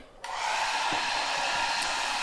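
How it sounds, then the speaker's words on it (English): A hair dryer switches on after a brief quiet moment and then blows steadily and loudly, running off a BLUETTI EB70S portable power station. "Let me turn this hair dryer on."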